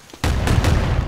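Automatic gunfire from a fully automatic weapon in the video game Predator: Hunting Grounds: a loud, dense burst of rapid shots starting abruptly and running continuously for about a second.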